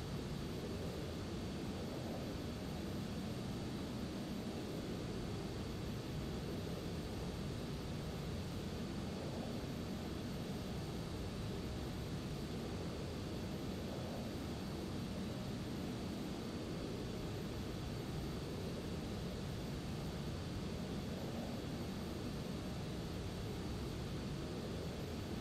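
Steady broadband roar of a jet airliner's engines during a takeoff in a virtual flight simulator at Atlanta International Airport, a continuous, fairly even rumble with no voices over it.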